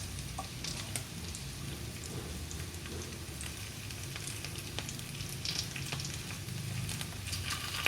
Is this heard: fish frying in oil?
yes